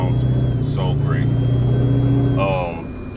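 A two-valve Ford Mustang engine fitted with an aftermarket exhaust gives a steady, deep idle rumble that holds for about three seconds and then fades slightly, while a person talks over it.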